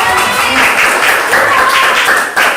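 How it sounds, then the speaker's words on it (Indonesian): Brief burst of clapping from a classroom group of children during a lesson, fairly loud and close, lasting a couple of seconds with a slight dip near the end. "Tepuk tangan untuk Kansa dan yang"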